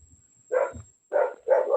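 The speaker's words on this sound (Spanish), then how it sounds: "hay un ladrido de fondo que también enmascara la audición" A dog barks in the background in three short bursts, the first one brief and the last two longer, with near silence between them and no talk over the barking.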